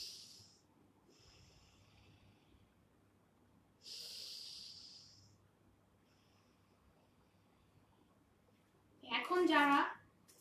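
Deep breaths taken during a live yoga session: a couple of soft, airy breaths spaced several seconds apart, followed by a louder, voiced sighing exhale near the end, heard alone and fairly close.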